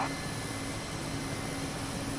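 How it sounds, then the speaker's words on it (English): Mi-8 helicopter in the DCS flight simulator, a steady broadband rotor and turbine roar with a high whine, continuous and loud with no talk. "having a wee fly in the Mi-8 today"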